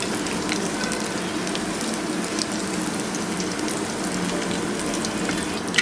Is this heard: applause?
no